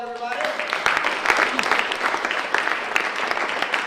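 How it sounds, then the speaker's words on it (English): An audience claps for a speaker at an entrepreneur event; dense, loud clapping fills the clip, with a brief voice at the very start. "All right, give a big round of applause, everybody."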